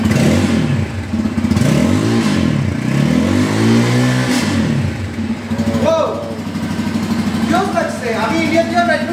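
A Bajaj Pulsar N250 motorcycle, a newly launched 250 cc bike, revs its exhaust loudly and up close, the engine note rising and falling in several swells before settling toward idle while people talk over it.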